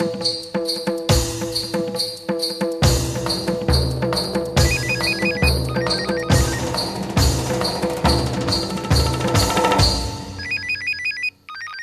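Telephone ringing in a Hindi TV drama scene, a repeated electronic ring in steady bursts with music-like tones under it, loud and continuous for most of the clip, ending abruptly.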